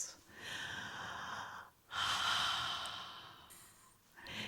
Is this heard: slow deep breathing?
yes